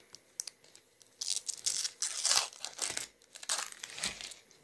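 Processed cream cheese package, made in Ukraine, being torn open: several close bursts of crinkling and tearing wrapper plastic with short pauses between, no talking.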